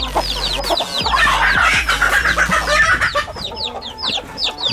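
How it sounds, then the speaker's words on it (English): Aseel chickens and small baby chicks cluck steadily nearby, with repeated high peeping calls layered over lower hen clucks in a busy, continuous farmyard chorus. "We got some baby chicks here."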